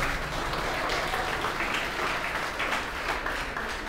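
Church congregation applauding during a worship service, a dense, steady wash of many hands clapping at moderate volume that holds evenly throughout with no pause.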